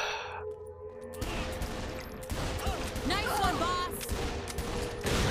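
Gunfire in Saints Row: The Third, bursts of rapid shots and blasts cracking over game noise with someone talking throughout.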